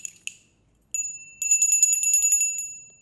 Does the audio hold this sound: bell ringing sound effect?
yes